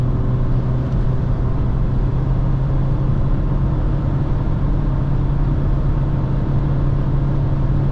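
A Renault Koleos SUV with a 1.6-litre 130 hp engine and CVT gearbox is held at about 4000 rpm, giving a loud, constant, unbroken engine drone with no talking.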